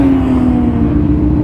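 A GT3 sports car drives past close by, its engine a steady strong hum and rumble with a sustained tone, brief and without voices.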